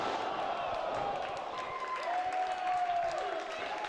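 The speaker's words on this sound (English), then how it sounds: "it's great to see the crowd getting behind it" Wrestling arena crowd applauding and cheering at a multi-man match, a dense steady wash of clapping and shouts with whistles and whoops, heard throughout under commentary.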